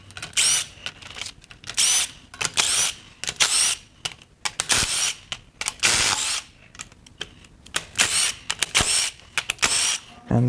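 An impact wrench breaks loose head bolts on a seized LS7 7.0L engine from a C6 Corvette Z06 during teardown, firing in repeated short rattling bursts with brief pauses between them, close and fairly loud.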